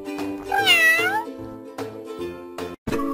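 A cartoonish cat meows once, drawn-out and high, in a kids' pet shelter game, over a steady bright game music loop with soft repeating beats.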